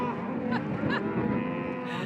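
Cattle on a Montana ranch cattle drive low and moo in a couple of drawn-out calls over a steady outdoor background, moderately close, with no talking.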